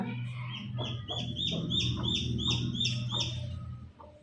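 Newly hatched chicks and chickens clucking and chirping in short repeated calls, close by, with a steady low background hum.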